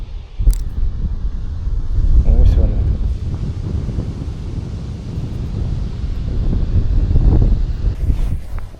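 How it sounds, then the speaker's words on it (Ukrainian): Strong wind gusts across a sandy river spit on the Desna while fishing, roaring and buffeting the microphone steadily throughout with surging peaks, close and loud, no talk. "Якби ще вітру не було, було б нормально."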